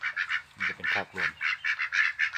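Male Yi Liang ducks quacking, a rapid series of loud nasal honking calls close by, overlapping in quick bursts with barely a pause.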